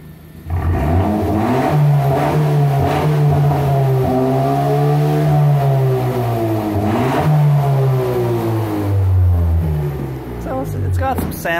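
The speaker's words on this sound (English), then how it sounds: "Let's give it a little throttle snap and so you can hear what it sounds like." A 2019 Honda Civic Si with its rear mufflers deleted and the middle resonator kept revs through several throttle snaps, its exhaust note climbing and falling in close, loud sweeps that fill the whole stretch.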